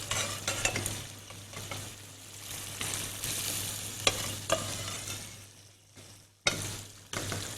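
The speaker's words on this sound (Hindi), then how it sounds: "इसमें हम आलू डालेंगे उबले हुए," Boiled potatoes go into hot oil in a pan over a low flame, sizzling and frying steadily while being stirred, with scraping bursts and a brief pause near the end.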